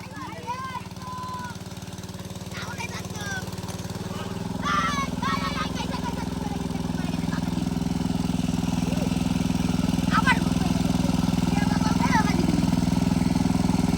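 A small machine engine, struggling to start and prone to stalling, runs steadily at a low idle, growing slightly louder over time, with faint voices and scattered sounds on top.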